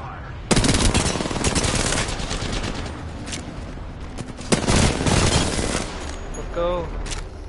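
Rapid automatic gunfire in a video game, loud and sustained in dense bursts with a fresh volley midway, over game music and effects.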